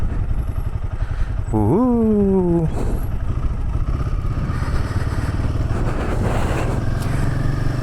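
Motorcycle engine droning steadily and loud throughout a ride into the hills near Guwahati, Assam, with wind rumble and a brief rising tonal whine partway through; no one speaks.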